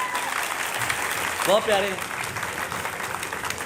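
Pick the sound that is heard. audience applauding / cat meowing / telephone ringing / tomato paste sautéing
audience applauding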